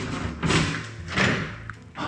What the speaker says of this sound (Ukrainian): це двері до гаражу знову